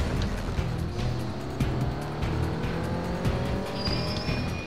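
A racing car in Test Drive Unlimited 2 drones steadily in first gear through a tournament race, its engine note rising and falling under a continuous roar with faint tire sounds, no talk.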